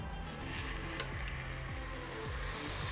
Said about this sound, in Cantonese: 而家咧我哋就要煎一煎呢一個牛肋肉啦